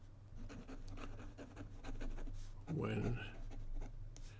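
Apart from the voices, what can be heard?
Montegrappa Gnomo fountain pen with stub nib writing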